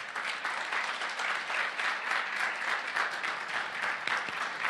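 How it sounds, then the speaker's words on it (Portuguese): An audience gives sustained, dense applause to welcome a speaker at a talk. The clapping stays steady and full from start to finish, with a faint crowd murmur underneath. "Salva de palmas."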